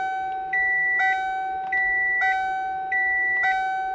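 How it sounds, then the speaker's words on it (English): A car's warning chimes sound while the engine control unit is being programmed: bright electronic tones repeat in steady two-note pairs, clear and close over a constant low background hum. "Why is everybody beeping at me? Everything's beeping at you."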